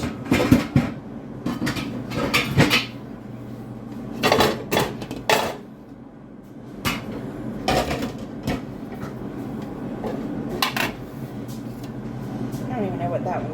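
Metal pots and pans clank and knock as they are sorted out of a kitchen cabinet, with scattered bursts of clattering amid steady room noise and a person talking.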